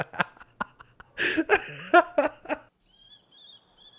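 Birds chirp in a few short, high repeated calls within an Attack on Titan anime scene, heard alone and fairly faint after a stretch of other loud sounds.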